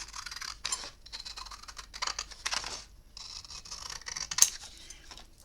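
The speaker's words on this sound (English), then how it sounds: "So I can probably just cut this one with my scissors." Scissors snipping through paper scraps during a craft project, several short bursts of crisp cutting and rustling at close range with brief pauses between, no voices.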